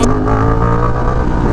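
A motorcycle engine with bent handlebars revs steadily up close on a closed road, a continuous loud rumble with no talking over it.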